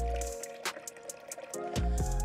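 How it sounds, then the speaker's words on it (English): Water poured into a blender jar, a short gurgling, splashing fill with bright droplet sounds close by, briefly interrupted before the flow resumes at the end. "I'm just gonna add some water to a blender"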